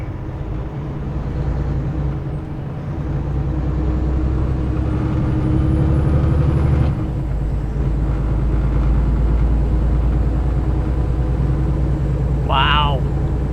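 An old Kenworth truck pulling over, its engine rumbling steadily with a sharp hiss of air brakes near the end, heard close and loud throughout.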